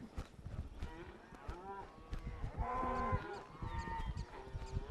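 A herd of cattle being driven up a trail on horseback moos repeatedly, with several long, overlapping low calls from nearby animals at varying loudness.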